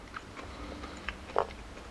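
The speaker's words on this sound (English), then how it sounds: "Chew a little bit off," Someone bites and chews raw garlic up close: a few faint, soft crunches in a quiet room, with one slightly louder bite near the end.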